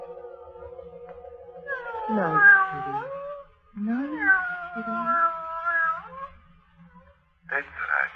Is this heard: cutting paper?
no